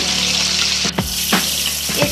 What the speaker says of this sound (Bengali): মাছের মাথাটা ভাজতে টাইম লাগবে।